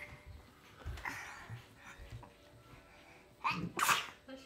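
A child sneezes indoors, two sharp bursts close together near the end after quiet breathing and faint background sounds.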